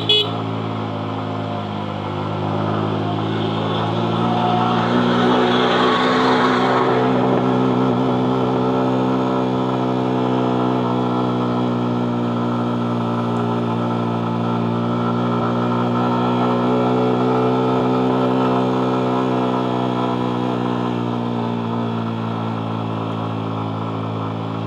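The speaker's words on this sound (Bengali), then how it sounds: "বাইকের ইঞ্জিনের সাউন্ড আপনারা শুনতে পাচ্ছেন" A motorbike engine labors uphill on the steep final stretch of mountain road to Sajek, a loud, steady droning growl that holds close and continuous throughout, swelling slightly midway as the climb strains on.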